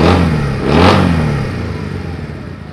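Honda Rebel 150cc motorcycle engine firing up, with a rising rev burst near the start that peaks around the first second, then settling into a loud, steady idle rumble.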